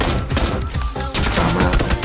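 Rapid bursts of gunfire in the video game PUBG crackle loudly, several quick shots in a short flurry with a brief pause midway.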